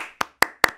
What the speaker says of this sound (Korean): 일단 박수.